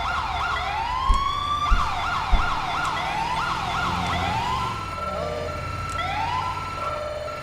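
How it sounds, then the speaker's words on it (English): An ambulance siren in GTA5 running the LSPDFR police mod wails in quick rising and falling sweeps, then shifts to a different pattern partway, loud over a low engine rumble with a few knocks. "Let's go make sure the ambulance siren works"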